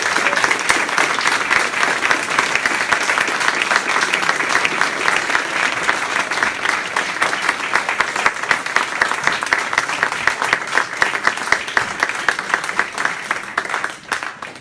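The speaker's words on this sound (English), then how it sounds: "I think Judy and Andy deserve a big round of applause." A crowd at an award ceremony applauding steadily, a dense, loud wash of many hands clapping close by, holding for over ten seconds before tapering off near the end.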